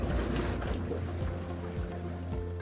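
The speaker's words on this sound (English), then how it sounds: "To turn your bubbles on, you press that button." A houseboat hot tub's bubbles are switched on, producing a constant frothy gurgling and rushing of water over a low pump drone, steady and nearby.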